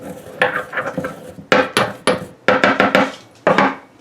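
Dried celery being pounded and ground in a mortar and pestle, a series of sharp, close knocks and scrapes in irregular clusters, loud and alone.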